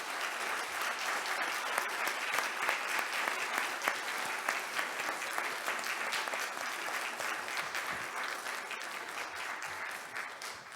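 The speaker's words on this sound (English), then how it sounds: "if I could ask the audience in joining me in giving our candidates tonight a round of applause" An audience at a 2022 mayoral all-candidates forum in Fort St. John applauds the candidates, a steady, fairly dense wash of clapping heard at moderate volume from across the hall.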